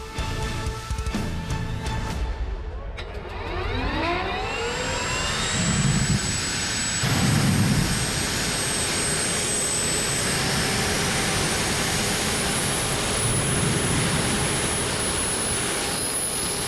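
A jet engine mounted on an Amish buggy spools up with a rising whine into a steady, loud roar that holds through the rest of the run at a track.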